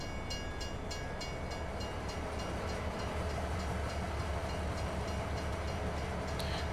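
Train cart rolling along the rails in Farming Simulator 22 with a sugar beet load, a continuous rumble with regular clickety-clack ticks early on and a brief high squeal near the end.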